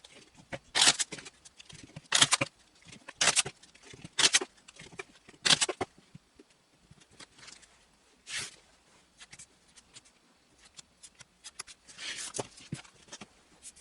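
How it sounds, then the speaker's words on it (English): Tarot cards shuffled, cut and dealt, heard as a series of crisp papery riffles and slaps in short bursts, fairly close and quiet, with pauses between handling sounds. "the cards have been shuffled, cut, dealt, and they're in a line"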